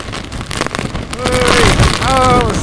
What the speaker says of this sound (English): So much wind, baby. So much wind.